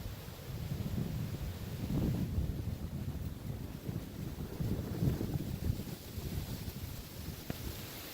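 Steady outdoor wind rumbles and buffets the microphone throughout at a sunrise archery hunt in Pennsylvania, a continuous low roar with mild gusts and no talking.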